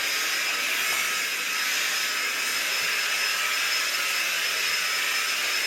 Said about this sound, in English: I'm going to hoover very quickly just downstairs